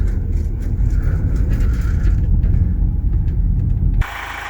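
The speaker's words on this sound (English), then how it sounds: "So we're driving over the reservoir at the moment." Vehicle engine driving over a reservoir near a dam, a loud steady low rumble with road noise throughout, dropping abruptly to a quieter hum near the end.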